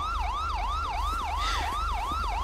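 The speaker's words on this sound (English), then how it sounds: "Ambulance, in route, responding code 3." Ambulance siren wailing in a rapid, repeating up-and-down sweep, loud and close, over a low rumbling vehicle hum.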